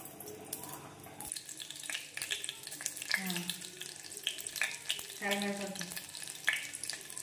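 Mustard seeds, cumin and urad dal crackle and sizzle in hot ghee, a steady close frying hiss with scattered pops and faint kitchen clatter.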